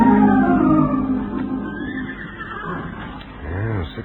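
A horse whinnies loudly and close in a frontier setting, a long descending neigh followed by a shorter snort-like call near the end, with no speech over it.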